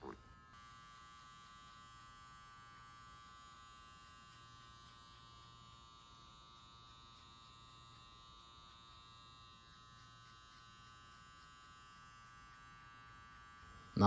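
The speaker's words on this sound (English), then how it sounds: "use the border of the clipper's blade" An electric hair clipper with its blade closed buzzes steadily while cutting hair in a skin fade, a close, continuous motor hum with a bright whine that runs unbroken from start to end.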